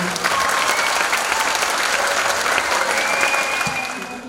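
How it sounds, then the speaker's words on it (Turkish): An audience applauds steadily after a primary school theatre performance, dense clapping throughout that begins to taper off at the end. "Bu ekibe ve öğrencilere büyük bir alkış istiyorum."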